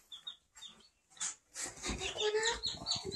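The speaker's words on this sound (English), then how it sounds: "We've got 10 chickens, 5 different breeds." Young chicks of five different breeds, ten in all, peep in high, thin chirps as they are placed into a small coop, with nearby rustling and handling noise building toward the end.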